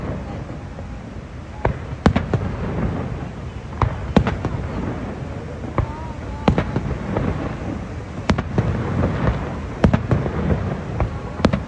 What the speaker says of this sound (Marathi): त्या बोटीतून एका पाठोपाठ एक असे खूप सगळे फटाके उडवले जात आहेत